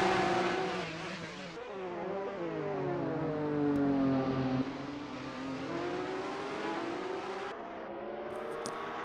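Formula Alfa race cars at speed in a championship race, engines roaring and rising and falling in pitch as they rev through the gears. The sound is loud, continuous and close, with no talking.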